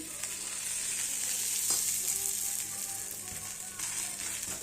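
Dosa batter sizzles steadily on a hot pan, a thick second dosa frying with a continuous bright hiss and faint crackles throughout, no voices.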